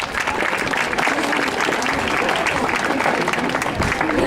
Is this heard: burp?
no